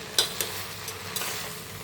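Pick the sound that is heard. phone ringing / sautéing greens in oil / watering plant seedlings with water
sautéing greens in oil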